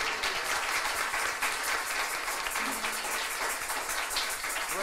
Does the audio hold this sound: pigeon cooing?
no